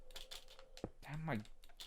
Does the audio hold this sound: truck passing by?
no